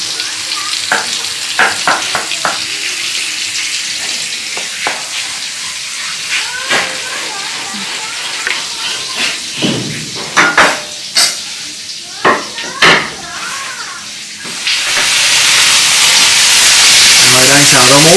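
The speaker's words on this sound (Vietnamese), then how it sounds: "Rồi đang xào rau muống nha các bạn." Water spinach is stir-fried in a pan for a vegetarian meal: scattered clanks and scrapes of a utensil against the pan, with brief voice sounds, give way to a loud, close, continuous hiss of sizzling near the end.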